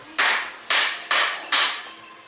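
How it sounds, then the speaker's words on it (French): Four sharp hammer blows at an even, unhurried pace, close and loud with no talk, struck while servicing the headset of a cross-country mountain bike in a workshop. "Le marteau, outil indispensable."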